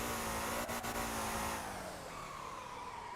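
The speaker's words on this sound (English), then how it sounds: "Frickin' pulling the handbrake." Car drifting on the handbrake in the Motor Town driving game, a sustained engine drone with a faint tire squeal sliding down in pitch, mid-distance and fairly quiet.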